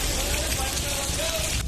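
Heavy rain pours steadily in a flooded Uttar Pradesh city, a dense, even hiss that stays loud and constant throughout, with a faint tonal voice or whine running beneath it.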